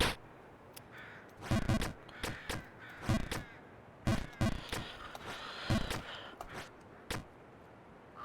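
Crow caws from the video game Jump King, a series of loud, harsh calls in short clustered bursts spread across the stretch, standing out over a quiet background hum.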